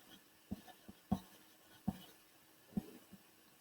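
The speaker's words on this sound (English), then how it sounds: "I'm going to just put a star and write the word temperature." A marker writing the word temperature, a few soft, close squeaks and taps in short separate strokes against a quiet background.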